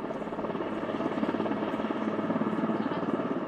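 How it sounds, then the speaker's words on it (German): A helicopter flies low over snow-laden trees in a winter snow region, its rotor giving a loud, continuous rhythmic thumping with a heavy engine drone that stays close and steady throughout. "Immer wieder kreisen Hubschrauber wie dieser in den Schneeregionen über Bäumen."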